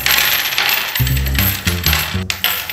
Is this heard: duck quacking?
no